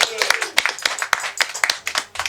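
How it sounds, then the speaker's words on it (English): Scattered hands clap for a publisher at a book launch, a loose, uneven run of sharp individual claps from a small crowd, fairly close and distinct, with faint voices in the room. "Let's give him a round of applause."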